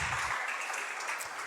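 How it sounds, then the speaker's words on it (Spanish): A church congregation claps together in a dense, steady burst of applause, heard from within the crowd for a brief moment. "Denle un aplauso al Señor entonces, hermano."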